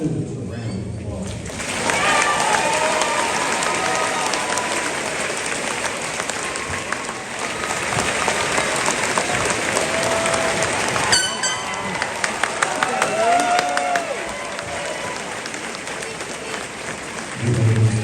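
An audience at a high school graduation ceremony applauds honors diploma graduates with loud, sustained clapping from a large crowd, continuing steadily for many seconds with a few shouts and whistles rising above it.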